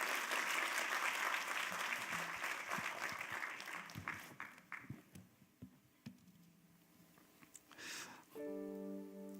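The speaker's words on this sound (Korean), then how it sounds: "여러분들 좀 박수로 격려해 주시면 좋겠습니다" Church congregation at a New Year's Eve worship service applauding to encourage a new member about to give a testimony; dense clapping fades over several seconds, leaving scattered claps, then a short musical tone and a voice.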